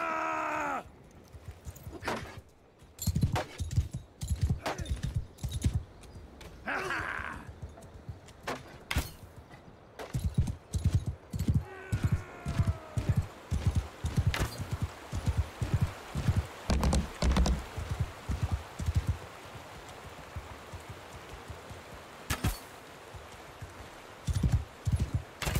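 Rhythmic clip-clop of horse hooves as a rider travels in a video game, steady repeated footfalls over a constant background, with occasional tonal game sounds layered in.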